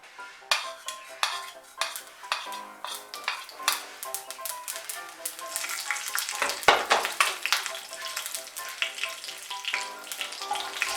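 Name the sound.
nigella seeds and green chili tempering in hot oil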